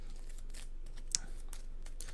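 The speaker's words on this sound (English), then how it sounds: "that's a good enough shuffle" Soft, brief riffles and crinkly slaps of playing cards being shuffled for a solo Century Spice Road board game, a few quick bursts close by with no talking.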